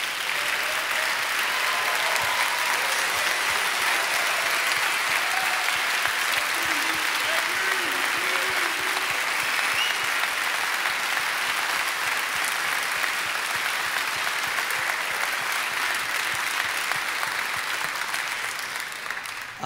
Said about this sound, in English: So if everybody would stand and please clap for your group parents